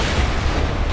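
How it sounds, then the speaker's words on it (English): A grenade blast in the Borderlands 2 video game, one loud, full booming burst that fills the whole moment with rumbling noise. "Throwing grenade!"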